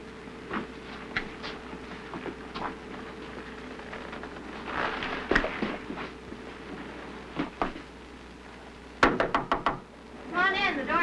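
Knocking on the door of a house comes as a few sharp raps among scattered taps and background hiss, with a short burst of louder knocks near the end and talk nearby.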